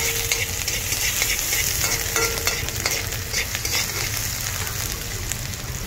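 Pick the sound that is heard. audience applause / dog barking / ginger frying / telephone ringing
ginger frying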